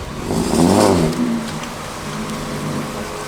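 Several Volkswagen Golf R32 cars rev their engines at Santa Pod Raceway during a GTI festival, one swelling loud as it passes close by, then easing back to a steady engine rumble, with no talk.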